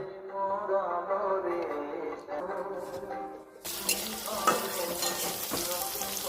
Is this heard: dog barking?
no